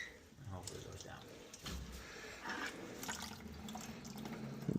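Water being drained out of an overfilling steam boiler with a faulty automatic feeder, a steady close splashing and trickling flow running the whole time under faint background noise.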